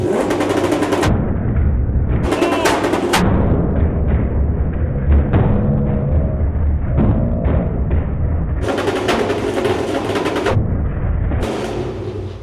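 A C5 Corvette revs hard on a dyno, its exhaust firing loud bursts of crackling pops and bangs like rapid gunfire, with roaring engine sections between the volleys and no talk.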